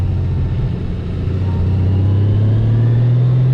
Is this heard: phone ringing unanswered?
no